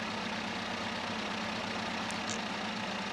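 A pickup truck engine in the driving game Pickup idles with a steady low throbbing hum and constant broadband noise just before it is switched off, close and unbroken, with no talking.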